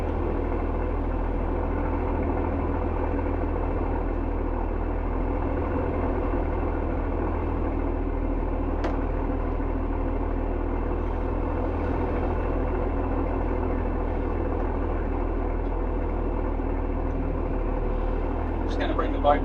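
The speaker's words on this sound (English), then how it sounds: "Just going to bring the boat up to 6 knots." A sunken trawler's boat engine on sea trial, a low, steady drone rumbling continuously throughout, with a constant deep hum and no noticeable change in pitch.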